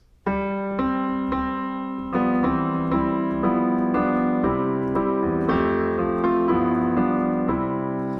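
Piano plays a full, moving arrangement of Hark The Herald Angels Sing in steady chords and melody, clear and alone without talk.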